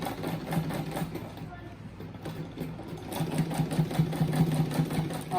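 A sewing machine stitches fabric with black thread for a rabbit-shaped placemat, its steady rapid whir running near and fairly loud, easing briefly midway before picking up again.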